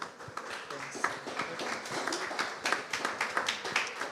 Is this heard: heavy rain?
no